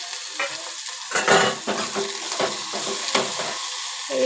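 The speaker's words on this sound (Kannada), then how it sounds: "ಇದು ಸೊಪ್ಪು ಈ ಎಣ್ಣೆಯಲ್ಲಿ ಫ್ರೈ ಮಾಡಬೇಕು" Fenugreek greens with tomato sizzle in hot oil, with loud, close crackling broken by repeated stirring scrapes in an uneven rhythm.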